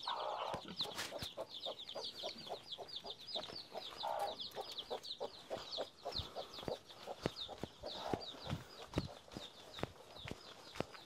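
Chickens cluck repeatedly in an outdoor rural Vietnamese yard, a steady run of short clucks with sharper bird calls over it and scattered taps and knocks, fairly close and moderately loud.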